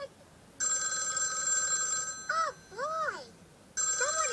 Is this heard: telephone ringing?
yes